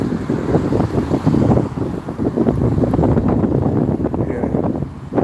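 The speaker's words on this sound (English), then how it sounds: "A bit windy." Gusty outdoor wind buffets the microphone near an old church in a city street, a continuous rumbling roar with uneven surges, close and fairly loud.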